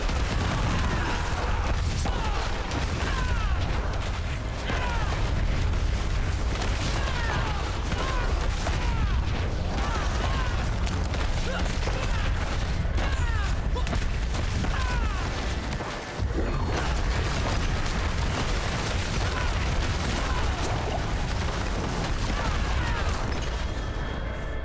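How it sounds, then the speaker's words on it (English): Explosions and battle noise in Diablo 4, a continuous loud wash of booms and gunfire-like blasts with layered effects, one brief dip midway, and a voice talking faintly under the din. "That stupid explosion."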